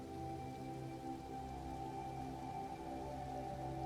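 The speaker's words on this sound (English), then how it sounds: "now rain started" Steady rain falling at night in the game Elden Ring, an even hiss of drops on surfaces with a low hum beneath, constant and unbroken, no voices.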